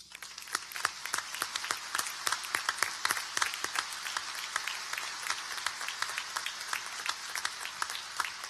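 Audience applause at a 2016 anniversary panel discussion for Empresas Polar, a steady wash of many hands clapping close by for several seconds with no talking.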